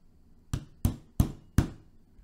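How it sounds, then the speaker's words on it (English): A flattened nail is tapped with a hammer to drive a pin out of a Taurus PT111 G2 pistol, making four sharp, evenly spaced knocks close up against a quiet background. "Then I have a nail that I found worked pretty good. I flatten the end off, tap it out."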